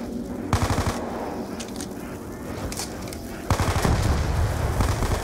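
An MP5 submachine gun fires in Call of Duty Black Ops 2 Zombies: two rapid bursts of loud, rattling automatic shots, one brief and one longer, over game background noise.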